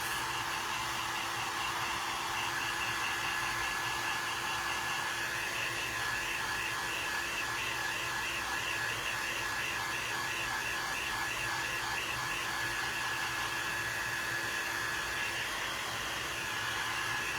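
A hair dryer runs steadily and continuously at close range, blowing to dry white paint on a craft piece, with a constant whooshing hiss and a faint whine throughout.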